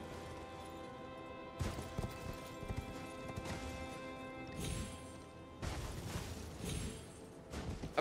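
Horse hooves clip-clop in the video game Elden Ring, a quiet run of irregular hoofbeats with a few louder bursts and impacts layered over a faint game backdrop, no talk.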